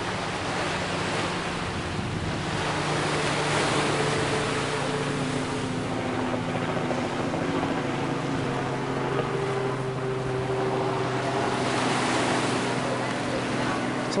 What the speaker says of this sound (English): And just look at this beach here.